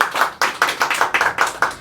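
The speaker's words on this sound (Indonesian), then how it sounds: "Boleh minta tepuk tangannya dulu?" An audience at a weekly stand-up comedy show, Monday Show, bursts into clapping: a short, steady run of close hand claps with sharp repeated attacks, heard alone without talk.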